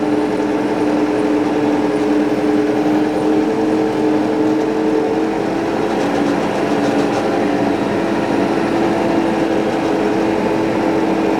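A very large farm tractor engine with the throttle turned up, running as a loud, steady drone with a strong low hum that holds constant throughout.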